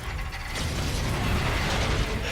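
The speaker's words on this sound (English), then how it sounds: "Let's get this door open, Reyes." A heavy mechanical door grinds open in Call of Duty: Infinite Warfare, with continuous ratcheting, creaking gear-driven clatter that swells slightly and stays loud and close for the whole stretch.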